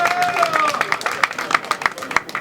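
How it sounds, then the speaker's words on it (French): Audience at a rail workers' general assembly clapping in a loose, irregular patter, close and fairly loud, with voices mixed in. "Vous pouvez vous applaudir, c'est pas mal."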